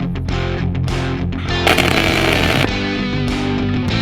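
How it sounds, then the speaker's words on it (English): Tack weld on a DIY steel bumper for a Jeep XJ build: a steady machine hum runs throughout, broken by one loud, roughly one-second burst of crackling arc in the middle. "I want to make sure I put my tack at the end of the joint."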